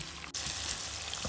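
A large tomato frying in a pan with potatoes and radish pods, giving a dense, steady sizzle close by with one brief dip, without speech.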